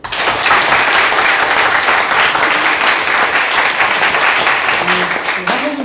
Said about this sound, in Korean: 우리 크게 박수 한번 쳐주십시오